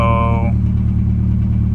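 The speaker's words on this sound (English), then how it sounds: "So right off the bat, started the car." A Nissan 240SX engine runs at a steady idle, a low continuous rumble close by, with a brief higher tone at the start fading after half a second.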